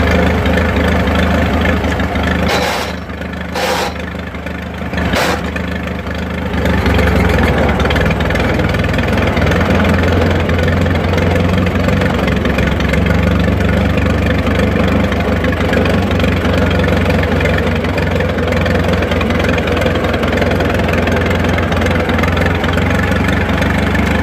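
An old Farmall Regular tractor engine idles loudly and steadily with a low, chugging throb that hardly changes, dipping briefly early on.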